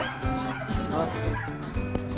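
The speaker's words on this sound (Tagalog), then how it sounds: "May aso pa." A dog at a busy Divisoria street market gives a few short yips and whimpering barks, fairly faint beneath steady vendor chatter and nearby voices.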